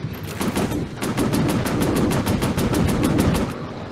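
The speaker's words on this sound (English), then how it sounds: "Machine guns overheated." Warplane machine guns fire in a video game air battle over the Pacific, sending a loud, steady stream of rapid shots for nearly four seconds before cutting off. No one speaks.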